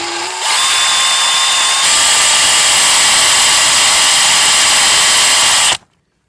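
A power drill bores steadily through roughly half-inch-thick metal while an oil bypass filtration system is installed, a loud continuous whine running for about five seconds before stopping abruptly.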